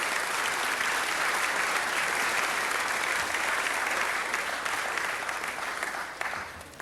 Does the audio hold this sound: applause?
yes